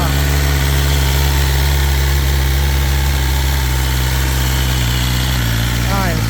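A 2023 BMW S1000RR motorcycle engine idles steadily up close, a continuous dense mechanical drone with a slight change in pitch near the end.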